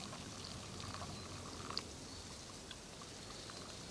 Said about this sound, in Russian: Заливаем кипяточком.